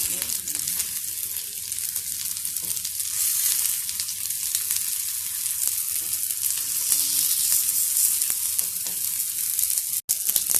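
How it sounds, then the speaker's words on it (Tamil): Oats cutlets fry in a pan with a steady, loud, hissing sizzle, and the spatula flips them with a few faint scrapes and one sharp tap near the end, close and continuous. "இப்போ எல்லாத்தையும் திருப்பி விட்டுக்கலாம்."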